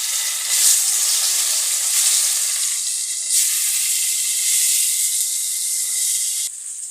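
Loud, close sizzling hiss of turmeric-coated potatoes frying in hot oil in a kadai, steady throughout with a few surges and a sudden drop near the end.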